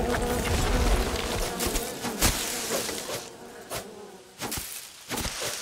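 Bees buzzing in Len's Island, a loud close insect drone that swells and fades as the bees move around, with brief clicking sounds cutting through the humming.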